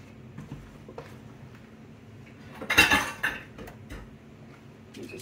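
Frying pan being oiled and handled while cooking stuffed grouper, with clattering pan and utensil clinks; a louder burst of scraping and clanking in the middle, quieter handling before and after, no talk.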